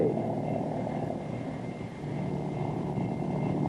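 A Kaman HOK helicopter powered by a Lycoming turbine engine produces a continuous, even turbine drone with a broad rushing roar, steady and close throughout.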